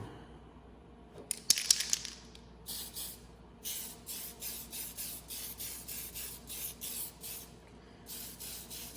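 An aerosol can hisses in a series of short, rhythmic spray bursts after a brief rattle, fairly close and moderately loud.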